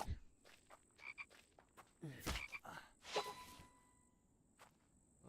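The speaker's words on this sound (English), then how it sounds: "there's our frog." Frog croaks in The Infected video game, a few short close calls among rustling and swishing movement sounds, with no talking over them.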